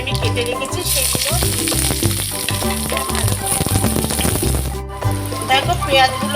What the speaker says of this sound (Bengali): দেখো, পেঁয়াজগুলো ভাজা হয়ে গেছে, হালকা ভাজা হয়েছে।